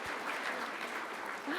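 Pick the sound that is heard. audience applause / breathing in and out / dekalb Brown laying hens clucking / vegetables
audience applause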